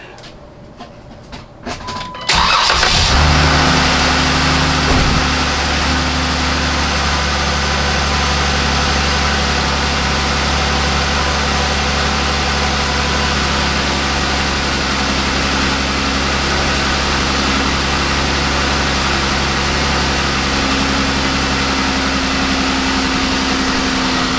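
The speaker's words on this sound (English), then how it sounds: "Let me just start up the car, or start up the Jeep." A Jeep Wrangler JKU engine cranks and catches after a couple of seconds, then settles into a loud, steady idle that rumbles on without a break.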